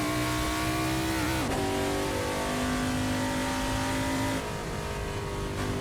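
A Holden VH Commodore race car at Morgan Park Raceway in the Assetto Corsa video game roars loudly and continuously, its engine pitch climbing, dipping at a gear change, then holding steady before easing off.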